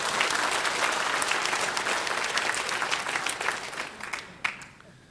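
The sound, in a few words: applause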